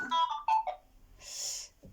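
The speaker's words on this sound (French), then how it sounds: "j'avais mon téléphone qui sonnait" A mobile phone rings indoors during a quiet card-reading session: a few short melodic tones, then a brighter, hissy burst of ringing, fairly close and moderately loud, with no talking over it.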